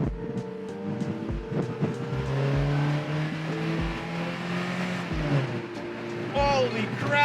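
Engine of a 33-year-old Mazda B2200 mini truck revving up and holding high rpm after an intake cleaning, a steady loud drone with rising harmonic tones and a few sharp bumps, close to the microphone, with no talking.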